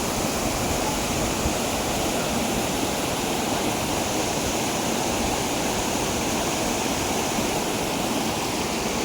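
A waterfall in the hills of Manali, heard as a constant loud roar of rushing water, steady and unbroken throughout, with no voices over it.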